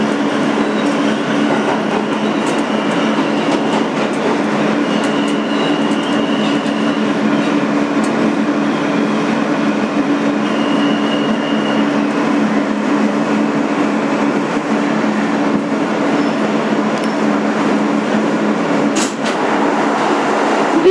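A 2008 Kawasaki R160B N local subway train runs on the BMT Sea Beach line, with a steady loud rumble of wheels on track, a faint whine and occasional brief squeals inside the car.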